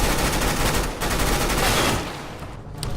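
AK rifle gunfire in the video game CS:GO: loud, continuous automatic bursts with a brief pause near the middle, fading slightly toward the end.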